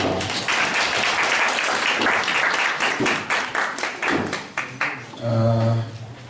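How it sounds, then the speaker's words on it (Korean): A church congregation gives a round of applause during a worship service, dense clapping that holds strong, then breaks into scattered claps and ends with a low hum of voices or music. "주님께 영광의 박수를 올려드리겠습니다."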